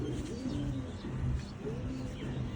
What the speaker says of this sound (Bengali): তো এটা একটা গিয়া গররা কবুতর।